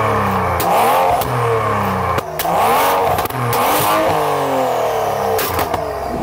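A BMW 4 Series sports car engine revs hard and loud up close, climbing through repeated throttle sweeps with brief dips between bursts, steady and alone without talk.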